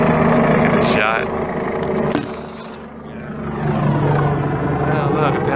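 A helicopter's rotor thrum passes close overhead, swelling and fading with a whooshing Doppler sweep, while a person talks over it.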